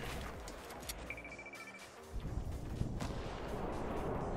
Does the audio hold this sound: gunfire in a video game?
yes